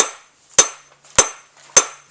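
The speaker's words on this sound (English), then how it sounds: "Again, I'm setting up a nice steady rhythm with my hammer" Steel hammer peening a blade edge, three sharp ringing metallic strikes at an even rhythm roughly every 0.6 seconds, each with a short decaying ring, close and alone.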